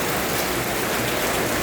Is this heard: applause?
no